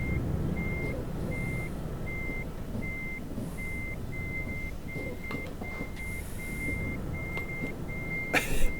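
Steady reversing beeps from a heavy truck backing up in the Euro Truck Simulator 2 driving game, repeating at an even pace over a constant low engine rumble, with a brief clatter near the end.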